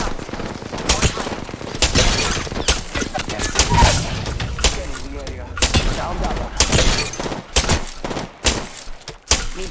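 Chaotic Apex Legends firefight with rapid gunfire and bullet impacts striking a player, bursts and cracks dense throughout, layered under frequent spoken callouts.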